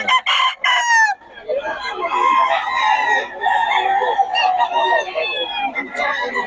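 Gamefowl roosters from Batangas crow loudly and close by, their calls overlapping one after another, with clucks from other chickens mixed in.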